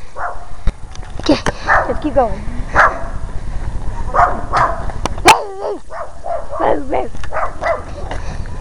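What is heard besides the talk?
puppy dog barking in an alleyway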